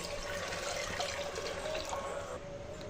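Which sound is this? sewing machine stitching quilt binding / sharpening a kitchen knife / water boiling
water boiling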